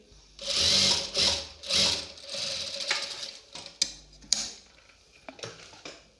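A sewing machine runs in several short bursts, its needle ticking fast and close, while it stitches dori piping onto a kurti neckline, with brief clicks and pauses between runs.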